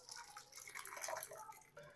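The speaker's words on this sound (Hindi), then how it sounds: "अब मैंने एक कढ़ाई ले ली है, इस कढ़ाई में मैं ये दाल को डाल दूंगा।" Thick, mashed chana dal slops into a kadai, with soft wet plops and drips and a light splattering, fairly quiet and close, no voices.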